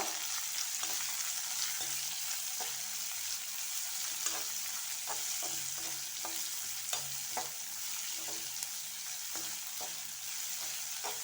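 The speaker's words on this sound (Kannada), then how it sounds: "ಈಗ 1 ಈರುಳ್ಳಿ ಚಿಕ್ಕದಾಗಿ ಕಟ್ ಮಾಡಿ ಇಟ್ಕೊಂಡಿದ್ದೇನೆ, ಇದನ್ನು ಆ್ಯಡ್ ಮಾಡುವ. ಸ್ವಲ್ಪ ಫ್ರೈ ಮಾಡುವ" Finely chopped onion frying in a pan for masala vegetable rice, giving a continuous soft sizzle with frequent light clicks and scrapes of stirring throughout.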